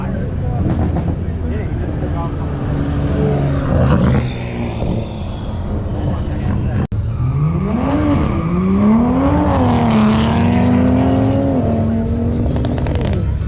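Engines roar and rise in pitch as cars, including a Volvo, accelerate hard on a drag strip, a loud continuous revving with people talking over the noise throughout.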